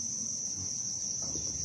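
Crickets kept in boxes at a cricket farm hold one steady, shrill, high trill from close by, with a faint low rumble underneath.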